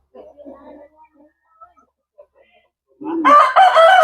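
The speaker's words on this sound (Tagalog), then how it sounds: "So chickens are very active this afternoon, as you can see." A rooster lets out a loud, close crow at the end, preceded by soft, scattered clucks from chickens in an afternoon farmyard.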